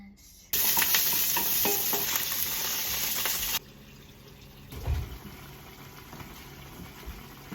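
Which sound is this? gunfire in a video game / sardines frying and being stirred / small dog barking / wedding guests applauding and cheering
sardines frying and being stirred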